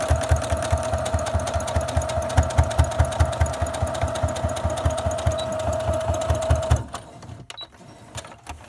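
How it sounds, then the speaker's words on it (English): A sewing machine stitches steadily across a folded fabric seam, its fast needle rhythm running loud and continuous before stopping abruptly near the end, followed by a few faint handling clicks. "we're just going to stitch right across that back stitch at the beginning and the end"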